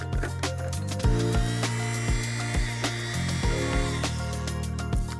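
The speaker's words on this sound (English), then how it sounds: "a pinch of salt, and we'll blend that again" A blender whirs through a tandoori chicken marinade with salt, its motor droning loud and close in steady bursts that shift pitch as the blade load changes, punctuated by repeated knocks.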